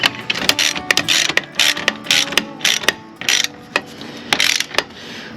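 A ratchet strap is cinched down on a teardrop camper trailer: close, loud bursts of metallic ratcheting clicks repeat in a steady rhythm of pulls with brief pauses, and no voices.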